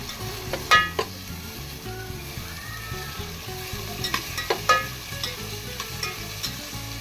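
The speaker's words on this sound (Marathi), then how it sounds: "आता पियाव घालता पियाव आणि टोमाट घालता ते बरें भाजून घेता" Onions and tomatoes frying for a Goan chorizo pork sausage pulao, a close, steady sizzle broken by stirring clacks and scrapes of a utensil against the pot.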